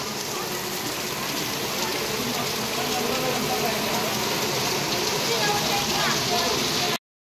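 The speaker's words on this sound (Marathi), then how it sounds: "बाहेर मस्त छान असा पाऊस पडतोय" Heavy monsoon rain pours down outdoors in the Konkan region, a dense, continuous hiss of drops close by and unbroken until it stops abruptly.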